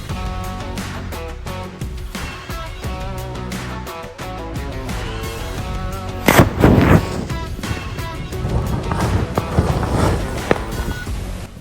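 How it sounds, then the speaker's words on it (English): A swollen lithium pouch battery cell, overcharged on the bench during an electric motorcycle drivetrain test, gives a sharp loud pop partway through and then a hissing, crackling burst of venting and burning that carries on to the end. "The battery stood up to over 3 hours of this before expanding, popping and then exploding"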